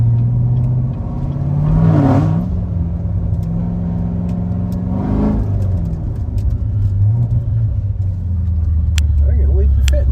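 A 750 rwhp Chevrolet C7 Z06 with a BTR LT4 camshaft rumbles close by with a lopey idle and two quick blips of revving, and a voice talks over the engine.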